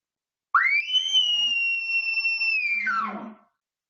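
A bugle call imitates an elk challenge bugle: a rising squeal into a long, piercing high whistle held for about two seconds, then falling away into a grunting drop, loud and close with no other sound.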